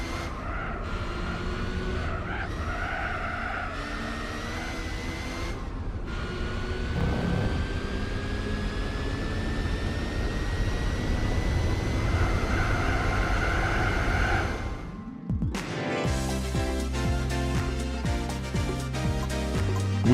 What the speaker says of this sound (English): Listen to that rotary engine, people.